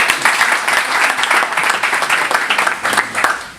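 An audience at a political event honoring activists breaks into steady applause, a dense wash of many hands clapping close and loud that carries evenly through the whole stretch.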